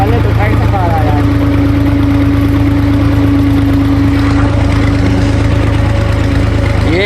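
A tractor engine idles nearby, a loud, steady low chugging hum that runs unbroken from start to finish, with a voice speaking over it.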